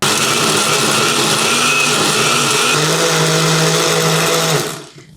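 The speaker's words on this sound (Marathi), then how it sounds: "आणि आता मिक्सरमध्ये हे बारीक फिरवून घ्यायचं" Kitchen mixer grinder blending fresh coconut with half a cup of hot water, a loud continuous motor whine and churning roar that holds steady for several seconds before winding down and stopping, no voices.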